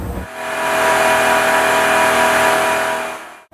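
A 5.7 Hemi V8 with the optional e-torque system, from a 2019 Dodge Ram 1500, revs hard on a dynamometer in a test cell, a loud sustained roar that holds steady before cutting off abruptly near the end.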